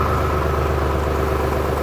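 A Solis 4215 E 43 HP tractor engine runs steadily during a gear demonstration, a continuous low throbbing idle with an even rhythmic pulse and no talk.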